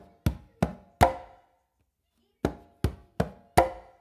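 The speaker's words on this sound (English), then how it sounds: "a bass with your non-dominant hand and then a close slap with your dominant" Congas played in a clave pattern with a bass stroke from the non-dominant hand followed by a close slap from the dominant hand, giving two groups of sharp, dry hits separated by a pause, close up with no voices.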